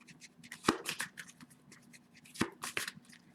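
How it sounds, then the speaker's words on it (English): Tarot cards being shuffled by hand, giving soft papery riffles and taps with a couple of sharper flicks, close and fairly quiet, with no talking. "Let's keep shuffling here."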